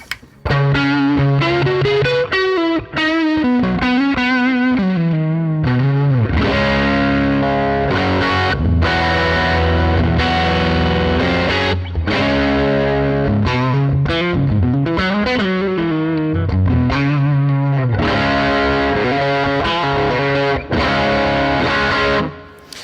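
Loud electric guitar through a Fractal Axe FX III 4x10 Bassman preset with gain raised on the bright channel, chords and riffs with a bright, crunchy, slightly breaking-up tone, played continuously without any talking.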